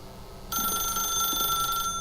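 A telephone rings in the video game The Stanley Parable, a loud, steady electronic ring that cuts in after a brief quiet moment and continues unbroken to the end.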